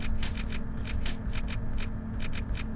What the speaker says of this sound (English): I like that it sounds like a typewriter